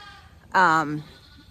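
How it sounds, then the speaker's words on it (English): A sheep in a barn during lambing gives one loud, clear bleat of about half a second, close by against a quiet background. "this barn is not going to hold all these sheep"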